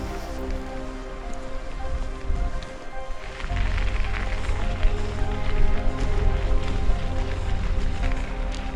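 Steady rain falling on a mountain pass in Ecuador, a dense continuous hiss of drops close by that grows heavier partway through, with no talk.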